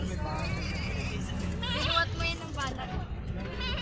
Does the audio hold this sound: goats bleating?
yes